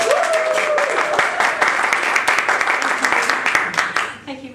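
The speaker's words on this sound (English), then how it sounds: "So please give Caroline Chapple a very warm round of applause." An audience breaks into warm applause, dense clapping filling the room for several seconds before tapering off, with a voice coming in as it fades.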